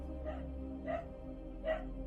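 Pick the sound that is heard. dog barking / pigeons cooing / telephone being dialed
dog barking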